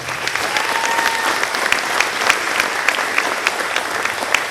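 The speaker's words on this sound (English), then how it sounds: "So let's give them a round of applause." Applause from the audience at a school winter band concert, steady crowded clapping with sharp individual hand claps standing out, fairly loud and continuous throughout.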